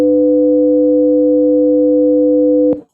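A steady complex tone made by adding 300 Hz and 500 Hz sine waves hums loud and unchanging for nearly three seconds, then cuts off abruptly, with nothing else heard.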